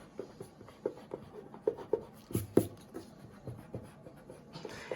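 Pen strokes scratching across paper as graffiti block letters are drawn and outlined, a series of close, light scratchy bursts in an uneven rhythm.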